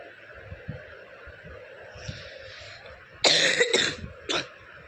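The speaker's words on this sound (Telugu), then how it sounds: "సో ఇప్పుడు నాకు లైట్గా కాఫ్ అయితే ఉంది" A person with a light cough coughs in a few sharp bursts close to the microphone, followed by a shorter cough, over a steady low background hum from a mobile game session.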